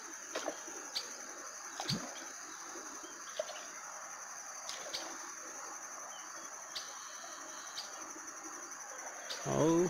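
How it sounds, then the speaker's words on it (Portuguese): Birds chirping and cooing near a fishing spot at dusk, with sharp repeated calls over a steady insect-like hum and occasional handling noises. "os passarinhos tá alegre aí dentro aí"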